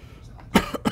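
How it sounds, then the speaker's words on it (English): An adult gives a short burst of coughs, one strong cough followed by two quicker ones, close to the microphone with no talk over them. "Should have coughed into my elbow"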